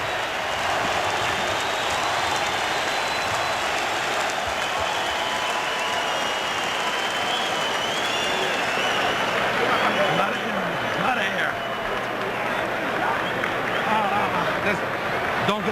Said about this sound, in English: the crowd chants Holyfield